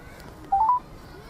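A short run of telephone keypad tones as a number is dialed, three quick beeps close together and clear over a faint quiet room.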